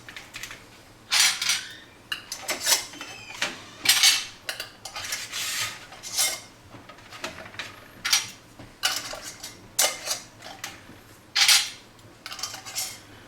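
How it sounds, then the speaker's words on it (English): Metal rings are screwed onto hot glass jars of plum jelly during open kettle canning, a string of close, bright metallic clinks and scrapes in irregular bursts with quiet pauses between. "now we're going to put our rings on."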